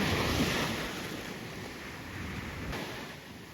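Ocean waves wash onto the shore at Havelock Island, a continuous broadband surf roar with slight swells, mixed with wind buffeting the microphone.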